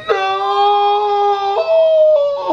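A dog lets out a loud, drawn-out tonal howl that bends in pitch, sliding into whimpering wails, close and clear with no one talking over it.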